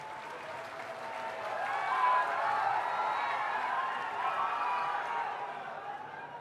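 Large crowd at an outdoor political rally in hot weather, applauding and cheering in a dense, steady wash that swells slightly midway and holds for several seconds, with no clear speech on top.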